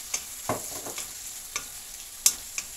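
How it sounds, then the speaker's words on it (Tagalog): Pumpkin sautéed in a pan for Filipino ginisang kalabasa, with a steady hiss of frying and sharp scraping stirs and clinks from a utensil, close and alone without talking. "Medyo igisa-gisa lang muna natin siya rito."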